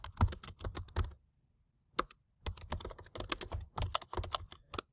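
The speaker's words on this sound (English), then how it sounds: "We can go ahead and type in a subject." Fingers type on a computer keyboard, quick bursts of close, crisp key clicks broken by a pause or two, with no voices.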